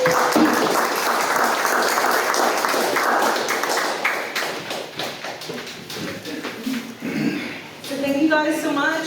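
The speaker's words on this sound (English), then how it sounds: "Please give her a warm round of applause" Audience applause at a Tea Party gathering in Cypress, Texas, as someone speaker is welcomed; a dense crowd clapping fills the room before thinning out, with talk coming in near the end.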